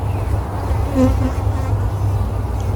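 A dense swarm of honeybees drones loudly and steadily around an open hive while beekeepers split it, with individual bees whining close to the microphone.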